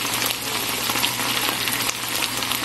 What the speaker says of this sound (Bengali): এদিক থেকে আমি প্রাণের রেডি পরোটাটাও ভেজে নিচ্ছি